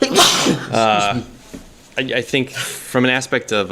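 A person sneezes once at the very start, a sharp breathy burst during a talk show, and then someone speaks clearly for the rest of the moment.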